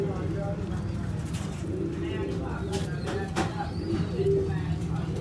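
Sialkoti rooftop pigeons coo in low, repeated rolling calls close by, while someone talks intermittently over them.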